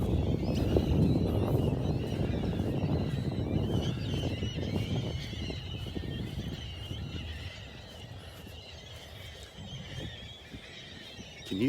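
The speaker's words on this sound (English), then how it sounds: "Can you hear the birds in the background?" Birds calling and chattering outdoors on a morning beach in North Naples, Florida, mixed with scattered clattering and rustling, fairly faint and continuous with no talking.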